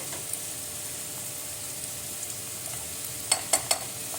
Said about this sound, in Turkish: Mantarlarımız güzelce kavururken biraz sonra suyunu salmaya başlayacak